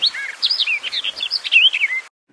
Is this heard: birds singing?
yes